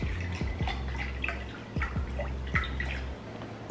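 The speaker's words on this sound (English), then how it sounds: "I'm gonna pour most of that in there" Beef broth poured from a container into a pot, soft splashing and dripping with intermittent glugs over a low background hum, close and fairly quiet, no speech.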